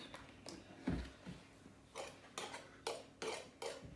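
A knife shaping a loaf of freshly baked gluten-free bread: a series of light scraping taps and clicks, close and quiet, coming in irregular bursts a few times a second.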